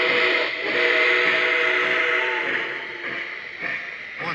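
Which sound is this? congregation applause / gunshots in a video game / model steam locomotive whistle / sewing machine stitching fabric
model steam locomotive whistle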